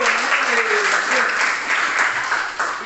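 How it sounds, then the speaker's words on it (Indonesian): Primary school pupils in a classroom clap together in a loud, brisk burst for a classmate, with a teacher's voice heard over the clapping. "Tepuk tangan untuk Ayu"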